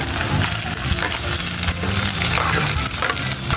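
Hotdog pieces are stirred into spaghetti sauce frying in a pan, giving a continuous sizzle with scraping, sloshing stirring strokes throughout.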